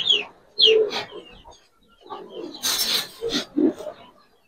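Pigeons coo in short, throaty bursts close by, a few separate calls with brief pauses between them.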